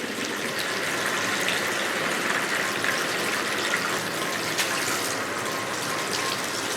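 A sink tap runs steadily while hair is rinsed during a curly-hair treatment, a constant moderate gush and splash of flowing water with no voices.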